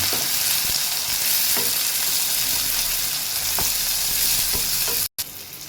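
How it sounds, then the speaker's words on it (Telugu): Sliced tomatoes fry in a pan with a steady, loud sizzle and occasional stirring taps, cutting out briefly near the end. "ఇది టమాటాలు మెత్తబడేంత వచ్చి ఇలానే ఫ్రై చేసుకోవాలి"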